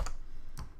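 Computer keyboard shortcut keys are pressed in a few quick, separate clicks, close and fairly quiet, with no talking.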